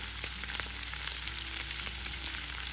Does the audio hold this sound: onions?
yes